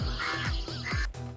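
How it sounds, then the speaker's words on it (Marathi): Crows caw several times in quick succession, close and fairly clear, with short harsh calls against a quiet outdoor background. "कावळ्यांचा आवाज येतोय"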